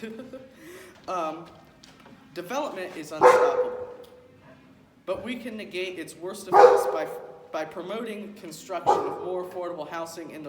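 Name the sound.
pet dog barking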